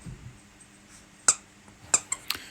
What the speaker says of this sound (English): Excuse the background noise of squeaking because that is the dogs playing with the dog toy.